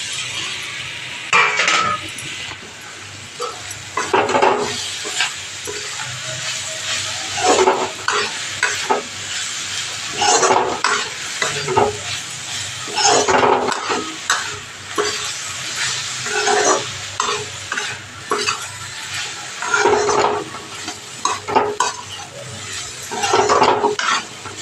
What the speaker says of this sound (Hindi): कढ़ाई बहुत ज़्यादा हिल रही है आज।